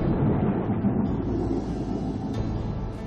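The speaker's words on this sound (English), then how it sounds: "Not even the approaching thunderstorm." A low, continuous thunder rumble rolls across the countryside as a thunderstorm approaches, steady and broad, with no voices.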